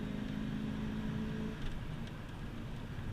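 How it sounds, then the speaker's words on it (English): A car engine pulled under hard throttle, a low droning rumble whose pitch drops and shifts partway through as it downshifts, heard fairly faint inside the car. "So I'm going to punch it, nice downshift"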